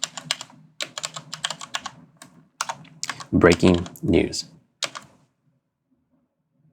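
Quick bursts of computer keyboard typing while text is entered in DaVinci Resolve 17 Fusion, close and fairly loud, with a person speaking over the typing before it stops and the clip falls silent.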